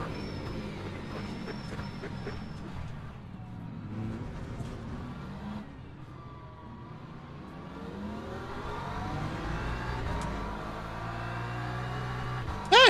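Racing car engines in the endurance sim Le Mans Ultimate, including BMW race cars, a steady droning whine that rises and falls through gear changes, moderately loud, with another car's engine closing in.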